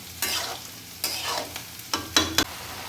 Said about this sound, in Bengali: আপনার আলুটাকে ভালো করে কষিয়ে নিচ্ছি